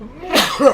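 A single sneeze bursts out close by in a working setting where a tractor is being used, a brief sharp burst followed by a short voiced tail, with a spoken word just before it.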